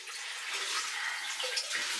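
Steady hiss of water pouring into a bucket at a homestead without running water, a continuous close splashing rush with small gurgles near the end.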